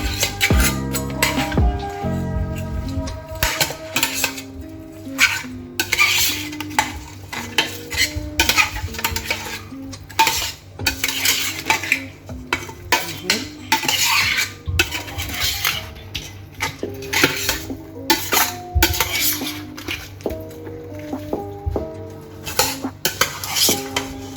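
Ingredients being mixed with a little oil in a dish for catfish en papillote, with busy, irregular clinking and scraping of a metal utensil against the dish, loud and close, continuing without pause.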